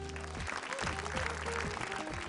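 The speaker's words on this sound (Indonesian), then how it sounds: "Tepuk tangan dulu." Steady clapping from an audience at a Quran recitation competition final fills the whole stretch, a dense patter of many hands with some tonal background underneath.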